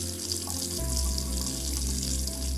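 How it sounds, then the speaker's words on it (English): Water runs from a tap in a steady, close stream. The flow holds even throughout, with no voices. "Just as I come to fill my pot, the water runs out."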